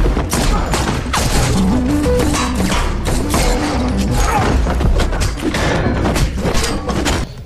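Movie shootout gunfire: rapid dense volleys of shots and thuds crackle continuously for several seconds, loud and close, with clattering impacts and no speech.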